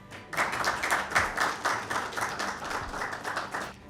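Audience applause for a poet at a Mother's Day mushaira, a steady wash of many hands clapping close and loud for about four seconds, with no voices over it.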